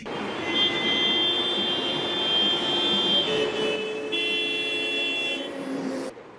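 Several car horns honk in sustained, overlapping blasts at a city intersection where a truck has run a yellow light and blocked the crossing, loud and continuous over steady traffic rumble for most of the stretch.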